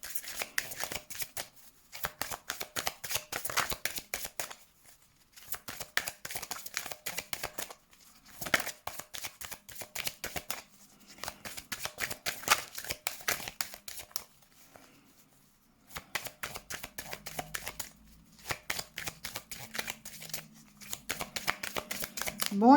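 Tarot cards are shuffled over and over, with rapid riffling bursts of papery flicking that come close up in several long runs broken by brief pauses.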